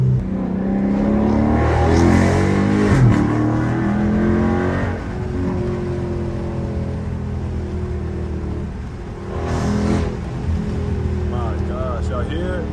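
A loud Dodge Charger Scat Pack engine revs and roars continuously on a highway, rising and falling in pitch as it accelerates, with someone talking over it.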